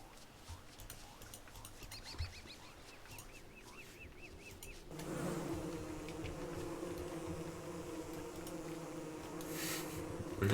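Killer bees buzzing in the survival game Don't Starve: a faint insect drone with small chirpy game tones at first, then a denser, louder swarm buzz from midway that keeps on steadily.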